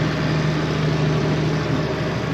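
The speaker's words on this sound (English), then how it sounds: "driving a tractor." A tractor engine drones steadily while driving, a loud continuous low rumble with a constant hum and no breaks.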